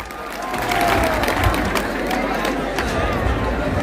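A crowd at a political rally stage in Bihar applauds a welcomed speaker with steady, dense clapping that holds for the whole stretch, mixed with crowd murmur and scattered voices.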